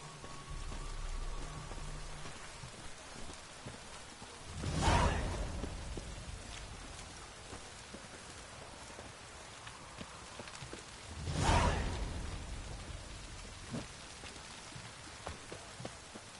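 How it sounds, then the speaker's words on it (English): Steady rain patters down in The Witcher 3, a constant soft hiss broken by two deep rolling thunder rumbles several seconds apart, with a few faint clip-clop sounds near the end and no speech. "Looks like rain"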